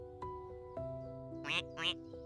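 A cartoon duck in a children's story gives two quick nasal quacks over soft sustained background music tones.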